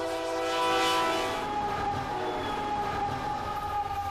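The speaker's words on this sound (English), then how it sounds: "The lead locomotive was CP8114 and the helper was CP9734." A Canadian Pacific freight train passes at a siding beside Lake Superior, its locomotives giving a steady, loud rolling rumble with sustained horn-like tonal drones throughout, no voices.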